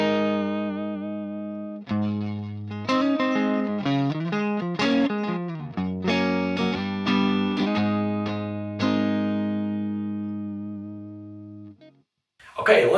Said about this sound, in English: he backed off the volume of his guitar to get these nice clean tones